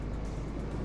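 A car drives in Farming Simulator 25 with a steady, close engine drone and road rumble that holds evenly through the short moment.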